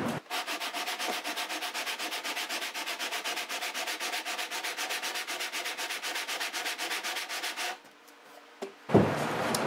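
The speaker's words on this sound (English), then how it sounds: "I've started sanding in here. I'm gonna keep going." Rapid, rhythmic back-and-forth rasp of sandpaper on the wooden rim of a steel-string guitar, steady for several seconds, then a pause and a brief shuffle.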